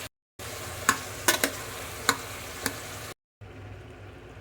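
Two green chillies frying and sizzling in a pan with vegetables, a steady hiss broken by a few sharp clicks of a stirring utensil, close, with brief dropouts.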